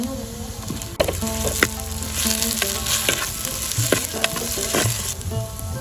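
Chopped smoked tomatoes hit hot masala frying with turmeric in a pan for Mangalore village-style baingan bharta, giving a loud steady sizzle with stirring scrapes and a sharp clatter near the start, no voices.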